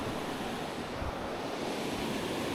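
A river rushing beneath a footbridge at the start of a Caribbean mountain trail, heard as a steady, loud broadband roar of flowing water with some wind buffeting the microphone, no voices.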